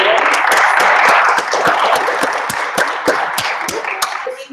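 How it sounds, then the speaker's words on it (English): A crowd claps steadily in loud, sustained applause with sharp individual claps standing out, gradually thinning toward the end. "Give her a round of applause."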